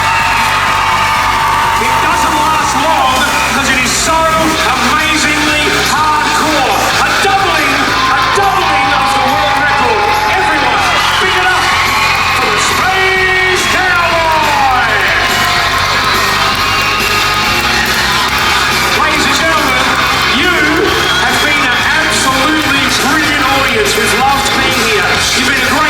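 An audience at a world record stunt at an Easter show whoops, yells and cheers loudly and continuously, a dense roaring crowd with individual shouts rising above it.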